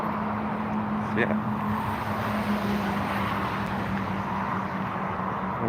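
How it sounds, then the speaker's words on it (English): A city bus rolls past on an Ottawa street, a steady engine rumble and tire roar filling the whole moment at close to medium range, with a faint voice underneath. "see the bus that went by"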